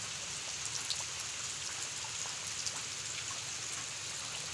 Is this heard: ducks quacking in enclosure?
no